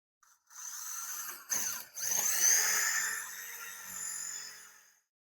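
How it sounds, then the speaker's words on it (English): A power drill whines steadily as it bores holes through a steel cross member of a trailer, with two brief pauses near the start before continuous drilling that fades out at the end. "the front two holes are drilled through one of the cross members of the trailer itself"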